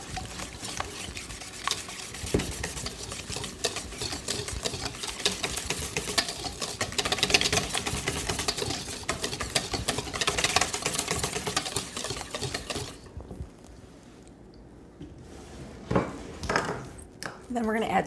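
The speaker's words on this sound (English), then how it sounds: "You're going to add 2 eggs. And then you're going to add 1 teaspoon of salt. Whisk that up." Eggs and salt whisked in a bowl while making homemade cinnamon rolls, a steady scraping, clattering whisk rhythm running continuously and fairly loud under a talking voice, then dropping away near the end.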